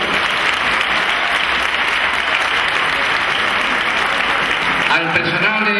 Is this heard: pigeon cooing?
no